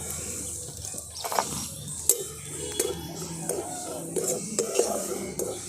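Semolina is fried and stirred in a pan for sweet kachuri, with a spoon scraping and clinking against the metal in irregular strokes over a soft background sizzle.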